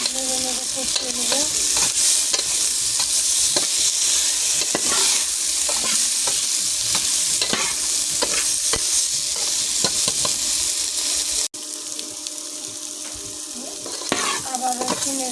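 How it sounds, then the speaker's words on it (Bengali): Hilsa fish masala with chili powder sizzles steadily in a pan, close and loud, while a spoon stirs and scrapes in repeated strokes; the frying drops slightly quieter near the end. "মরিচের গুঁড়ো দিয়ে দিলাম। আমি ভালো করে নেড়ে দেবো, নেড়ে নেড়ে কষিয়ে নেব।"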